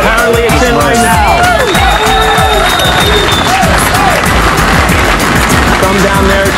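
A large crowd at the One World Trade Center site in New York cheers, claps and chants rhythmically as the final piece lowers into place, loud and continuous throughout with voices overlapping.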